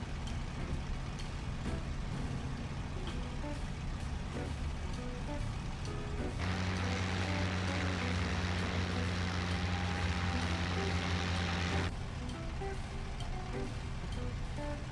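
A P-51 Mustang propeller engine drones steadily as the aircraft comes in to land in a flight simulator game, with a strong tonal hum building midway while someone talks throughout.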